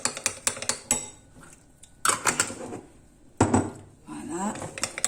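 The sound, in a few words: mixing coconut butter in a bowl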